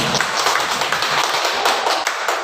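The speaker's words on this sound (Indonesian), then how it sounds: "Tepuk tangan untuk Pak Yusuf." A room of people at a school session in Indonesia claps for a speaker, a dense continuous patter of many hands, fairly loud and close, with no talk over it.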